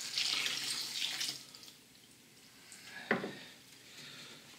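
Brandy (eau de vie) poured into a homemade boudin blanc sausage mixture: a close, steady liquid pour for about a second, then quiet with one sharp knock partway through.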